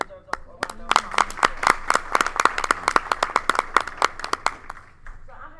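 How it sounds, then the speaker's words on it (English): Sparse clapping from a small audience at a county school board meeting, distinct individual claps in an irregular rhythm for about five seconds, with faint talk underneath. "And I think that deserves a round of applause."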